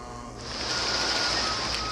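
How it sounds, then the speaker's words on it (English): Heavy monsoon rain in Burma: a dense, steady broadband hiss that swells after the first moment and holds loud and close throughout, with no voices. "And I found rain like I'd never seen before."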